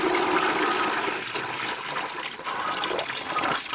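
Water drains fast from a basin after the plug is pulled in an equator demonstration in Ecuador, a steady close gurgling rush that swirls and fades slightly over a few seconds.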